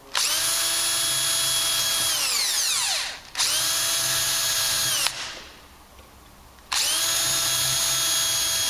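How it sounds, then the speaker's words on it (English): Cordless drill with clutch driving screws to fix a hinge into a wooden door: two long sustained motor whines that wind down, a brief gap with a shorter burst, then another steady run, close and loud with no talk. "We can now screw the hinge into the door, again using our cordless drill with the clutch."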